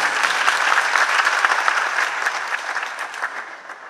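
Audience clapping at a felicitation programme in Kanpur, a loud dense burst of many hands that slowly tapers off.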